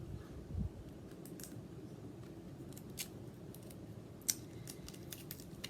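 Scissors snip through a thin teal ribbon bought at a dollar store, a single quick close cut standing out over faint room noise, with a few light clicks following.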